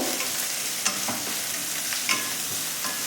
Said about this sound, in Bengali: এবার পেঁয়াজ কুচিটা দিলাম তার সাথে যে কাঁচা লঙ্কাটা ছিল সেগুলোকে একটু করে ফাটিয়ে দিয়ে দিলাম পেঁয়াজটা একটু ভালো করে ভাজবো